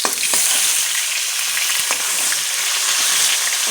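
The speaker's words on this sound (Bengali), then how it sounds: "উল্টে সব মাছগুলো এখন সুন্দর করে ভাজা করে নেব।" Tilapia fish, freshly flipped, frying in hot oil with a loud, close, unbroken sizzle, scattered crackles and spits, and no talking.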